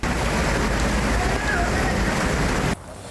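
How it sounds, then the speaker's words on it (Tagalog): Heavy rain pours down along EDSA in Metro Manila during severe flooding, a dense, constant hiss and roar that cuts off abruptly near the end. "dahilan sa patuloy na pagbuhos ng ulan na nagdulot ng matinding baha"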